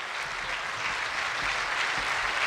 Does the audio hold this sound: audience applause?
yes